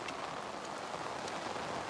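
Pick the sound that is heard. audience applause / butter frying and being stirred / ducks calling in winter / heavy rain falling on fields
heavy rain falling on fields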